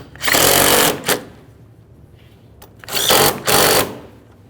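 A power tool snugs up plastic intake mounting bolts on a 2012-2018 Nissan Altima, giving two broadband whirring bursts, each followed by a short blip, with quiet gaps between them.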